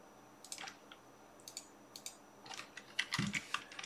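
Keys tapped on a computer keyboard while entering the cell reference E1 in an Excel spreadsheet, heard as a few sparse, light, close clicks building into a short quicker cluster of keystrokes.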